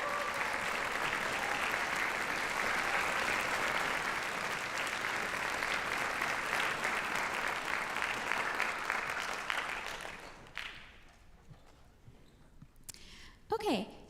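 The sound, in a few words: audience applause for orchestra soloists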